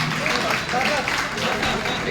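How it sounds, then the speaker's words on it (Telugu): An audience applauds at a retirement felicitation for an additional collector, a steady wash of clapping from a crowd throughout. "గట్టిగా చప్పట్లతో ఒకసారి మనం కూడా అభినందిద్దాం."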